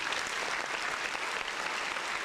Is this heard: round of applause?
yes